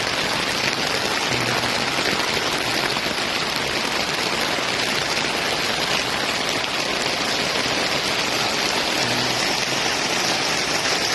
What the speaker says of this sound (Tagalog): inaabot tayo ng ulan